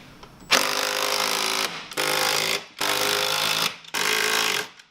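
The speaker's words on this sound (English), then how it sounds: "Tighten these 4 to give you a range of 15 to 18 foot-pounds." A power tool tightens bumper bolts on a Ski-Doo Summit snowmobile, running in four loud, sustained buzzing bursts of about a second each, separated by short pauses.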